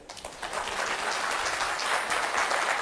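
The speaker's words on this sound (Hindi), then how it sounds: "पहले एक बार अपने लिए ताली बजा दो।" Audience clapping at a cyber security lecture, starting softly and swelling into a steady, even round of applause from a hall full of listeners, with no voices over it.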